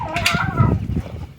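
A backyard flock of chickens being fed fodder gives a short burst of clucking and squawks, close and fairly loud, lasting about a second.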